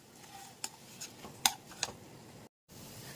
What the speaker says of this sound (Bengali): সবকিছু মিক্সড করে সুন্দর করে আমি অনেকক্ষণ ধরে নাড়িয়ে নিয়েছি